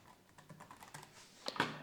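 Keys tapped on a computer keyboard while entering a field name in a workflow tool, a light run of soft clicks ending in a few louder, closer strikes, with no voices.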